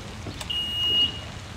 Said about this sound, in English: That beep you heard, that is going to be your warning symbol or signal if anything with the engine is wrong.